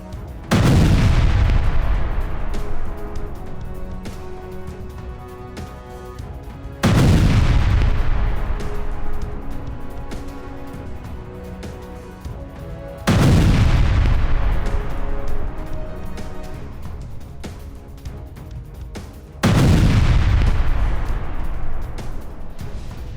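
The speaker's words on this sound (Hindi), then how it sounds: "क्रीमिया में एयर डिफेंस सिस्टम एक्टिव हो गया है।" An air defense system fires near Sevastopol in Crimea: four loud, deep booms arrive roughly every six seconds. Each blast rolls off into a long rumbling decay, with no voices heard.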